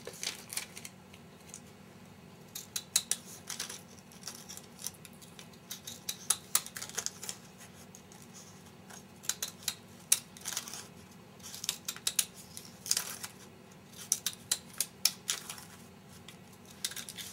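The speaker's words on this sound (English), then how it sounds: "I'm going to start cutting my scallop." Scissors cutting a scallop edge along a paper strip, giving soft, irregular snips and clicks in small clusters over a quiet background, close by, with no talking.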